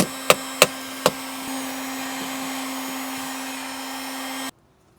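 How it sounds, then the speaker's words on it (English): A heat gun warms a car taillight on a Z32 300ZX, a steady blowing hum with a few sharp knocks near the start, running until it cuts off abruptly near the end. "I'll probably continue to use the heat gun"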